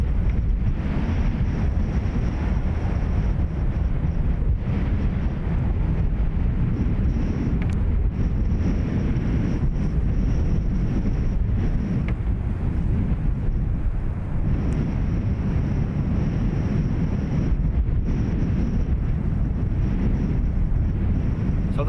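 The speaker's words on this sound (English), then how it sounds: "Breeze getting mental here now, as you can probably hear." Strong wind gusts buffet the microphone at Dublin Airport, a loud continuous low roar and rumble that surges and eases throughout, with no talking.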